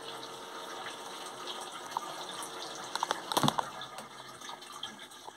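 Water overflowing from the top of a tank, a continuous quiet trickling gush with a brief burst of louder splashing in the middle.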